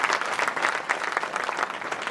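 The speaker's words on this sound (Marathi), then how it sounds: "एकदा जोरदार टाळ्या त्यांच्याकरता होऊन जावे" Hearty audience applause at a village kirtan, a dense steady patter of many hands clapping together for a couple of seconds.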